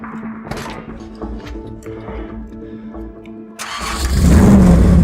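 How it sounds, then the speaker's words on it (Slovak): A Skoda Roomster is started without a key by turning a screwdriver in the ignition. Light clicks and rattles come first, then the engine cranks, catches and rises into a loud, steady idle roar that lasts to the end. "Vyskúšame si auto otvoriť a naštartovať"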